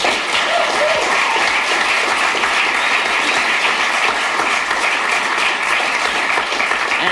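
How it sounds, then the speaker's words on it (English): Dense, loud, steady applause from a theatre audience honoring a playwright, a sustained wash of many hands clapping at once with no gaps for the full seven seconds. "So let's applaud Mr. Miller."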